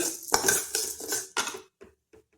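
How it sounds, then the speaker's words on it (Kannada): Dry urad dal rattles and scrapes against a metal pan as a spoon stirs it while roasting in quick bursts, the clatter fading out at the end. "ಅದೇ ಬಾಣಲೆಗೆ ಉದ್ದಿನಬೇಳೆ ಹಾಕ್ಕೊಂಡು ಹುರಿಯೋಣ ಈಗ"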